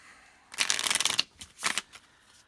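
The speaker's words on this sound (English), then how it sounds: "so let's just shuffle." Sibilla fortune-telling cards, with hand-inked black edges, being shuffled: a dense burst of riffling and flapping, followed by two shorter shuffles, close and fairly loud with no talking.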